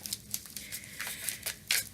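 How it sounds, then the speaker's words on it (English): A deck of cards being shuffled by hand, giving quiet papery riffles and flicks in short uneven bursts with a sharper crackle near the end, close up and with no talking. "as I'm shuffling"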